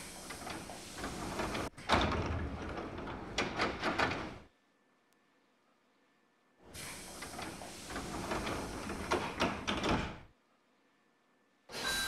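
Hankyu 3000 series train doors in the BVE simulator on the Minoo Line, closing with two long loud pneumatic hisses and rattles separated by a silent gap, then another burst starting at the end.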